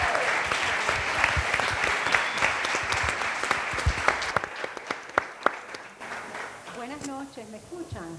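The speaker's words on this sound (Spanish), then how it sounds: "Demos un fuerte aplauso y una calurosa bienvenida a estos espectaculares ponentes." An audience claps to welcome the speakers of a conference panel, with dense sustained applause that thins into scattered claps before a voice begins speaking at the end.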